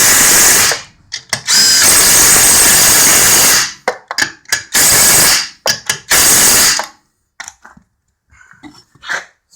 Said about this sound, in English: that is usually how I torture test my Makita 1/4 inch hex impact driver right here